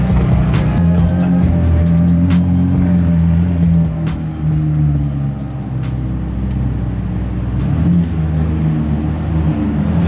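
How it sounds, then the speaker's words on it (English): A McLaren Senna supercar pulling up: its powerful engine idles and rumbles loudly up close, a deep, steady low throb with occasional clicks and small revs over ten seconds. "just got a random Senna pulling up."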